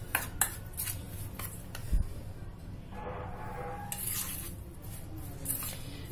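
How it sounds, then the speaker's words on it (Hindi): Chocolate fudge ingredients being stirred together in a bowl, a soft squishy scraping with occasional light clinks of a utensil against the side, steady and close, with no talking. "और इन दोनों को पहले हम अच्छे से मिक्स कर लेंगे"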